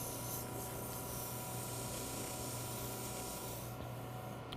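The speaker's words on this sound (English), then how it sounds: "With the ornament sanded," Fine 600-grit sandpaper rubs against a spinning wooden Christmas ornament on a lathe, giving a steady, close, even hiss that runs without a break.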